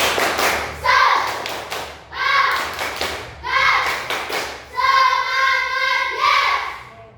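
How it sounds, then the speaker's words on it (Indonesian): A fifth-grade class performs a tepuk semangat chant, bursts of rhythmic group clapping in four patterned phrases with children's voices chanting along between claps. "supaya lebih semangat, tepuk semangat"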